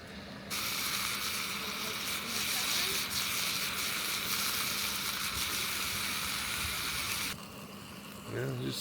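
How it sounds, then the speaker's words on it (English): Bacon fries in a pie iron at a dispersed campsite in Idaho, giving a steady, close sizzling hiss that holds for about seven seconds before dropping back, with no talk over it. "first thing is to fry up some bacon in the pie iron."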